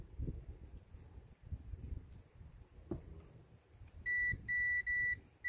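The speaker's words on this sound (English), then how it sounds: "And that one's beeping." A circuit tester probing hot wires at a hardwired fuse box gives a few sharp, steady electronic beeps near the end, after quiet handling rustle; the tones are close and clear.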